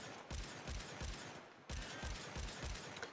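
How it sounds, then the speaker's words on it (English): Euphona Prime hand cannon in the video game Warframe firing rapidly, a run of heavy booming shots at a steady beat, a short pause, then another quick burst, all fairly faint with no talk. "The Last Ward is a hand cannon or pistol from Destiny, and it used to shoot at a very high rate."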